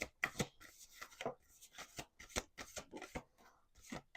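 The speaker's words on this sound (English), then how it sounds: "Let's do two more shuffles." Tarot cards are shuffled in several quick riffling bursts with short pauses between them, crisp and close.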